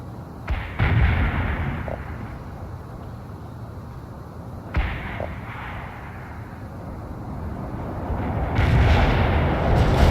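Artillery explosions rumble in the World in Conflict video game, with deep booming impacts, a couple of sharp blasts and sustained low roaring from the barrage.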